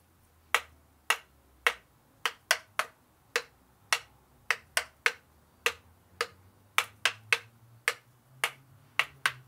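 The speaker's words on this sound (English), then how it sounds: "Let's see what the sticks sound like." Wooden rhythm sticks are struck together in a steady beat, producing sharp, dry clicks, about twenty in all, fairly quiet and close, with a faint low hum beneath.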